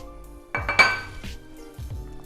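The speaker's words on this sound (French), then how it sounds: "Bien mélanger pour obtenir une pâte super homogène." Gluten-free chocolate and pumpkin muffin batter stirred in a bowl, a few clinking, ringing knocks of a utensil against the bowl's side, close and alone.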